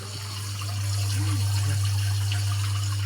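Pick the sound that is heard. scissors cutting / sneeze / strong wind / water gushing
water gushing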